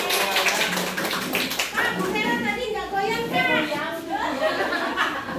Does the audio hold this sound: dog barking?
no